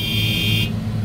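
A stuck car horn sounds a steady, loud, unbroken electronic tone that cuts off abruptly partway through, leaving a low rumbling hum underneath.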